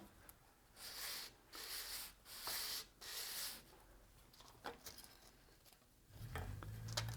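Fine 220-grit sandpaper rubs by hand across a guitar part, close and soft, in four or five steady strokes of roughly half a second each, then lighter scattered handling and a low rumble near the end.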